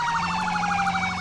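An ambulance siren in the Roblox game ERLC gives a loud, rapid, steady warbling yelp that fills the whole moment without any break.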